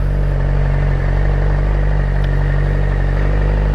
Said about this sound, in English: I'm just letting the bike roll on its own because I let this go. And now I'll pull it in and ease on the front brake.